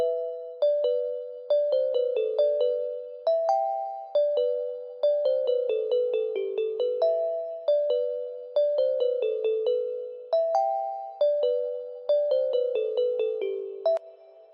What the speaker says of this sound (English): So that's the bells. I got a lot of reverb on that too